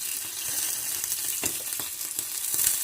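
Kerala appam batter cooking in an oiled pan, a steady close sizzle and crackle of frying with a few soft scraping taps, and no voices.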